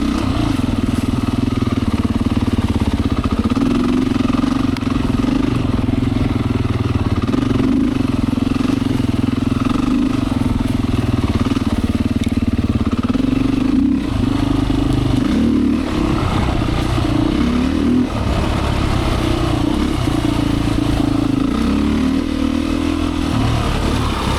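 A Beta 500 trail motorcycle engine runs steadily close-up as the bike rides a wooded loop trail in Michigan, a droning mid-pitched hum with small rises and dips in revs, continuous throughout with no talking.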